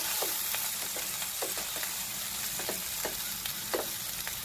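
Stuffed okra cooking in a pan on low heat, a steady gentle frying hiss with occasional soft crackles and light stirring taps, close and continuous, no voices.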